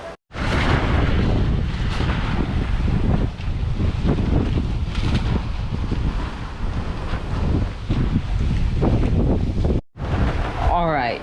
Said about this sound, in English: We have a good wind.